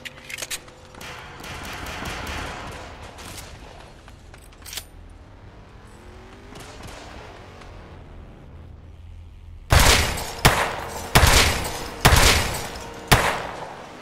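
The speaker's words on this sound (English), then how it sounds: "I keep hearing gunshots" Several loud, sharp Tec-9 gunshots in a video game crack out about a second apart, following a stretch of quieter, muffled background noise.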